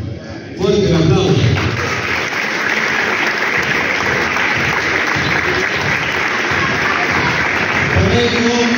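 Crowd applause at a stadium naming ceremony, a loud dense burst of clapping that starts abruptly and holds steady, with voices mixed in.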